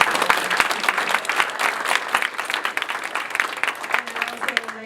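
An audience at a women's debate event applauds the moderator with close, crisp clapping that thins near the end as a voice begins to speak.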